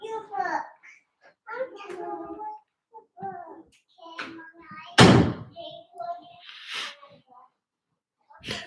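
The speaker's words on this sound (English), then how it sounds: "Close my door, please." A door shuts with one sharp loud thud in the middle of a child's chatter, with talking before and after it.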